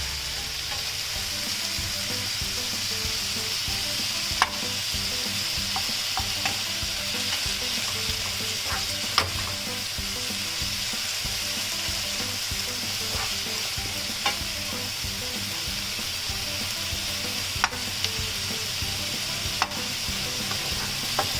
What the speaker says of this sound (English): So now slightly saute this also till water gets evaporated.